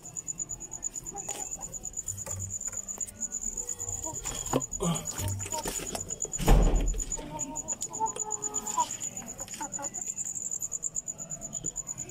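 A Peruvian Blues rooster gives soft, low clucks amid a constant high chirring of crickets outdoors, with other chicken sounds and a brief louder rustle midway.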